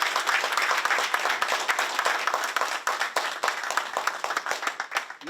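An audience at a city candidates night applauds, a dense sustained round of clapping from many hands that carries on throughout with no speech over it.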